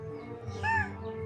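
A cat lets out one short, faint meow partway through, set against a steady low background hum.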